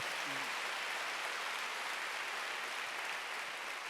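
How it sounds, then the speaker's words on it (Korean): Loud, dense clapping from a church congregation at a Wednesday worship service, a steady wash of applause filling the whole stretch with no pauses. "박수 세게 쳐요."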